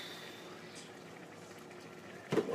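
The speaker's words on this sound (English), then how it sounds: "You can't open it. It's going. There's water in there." A running dishwasher filling with water makes a steady soft hiss and faint rushing in a kitchen, with a brief louder clunk near the end.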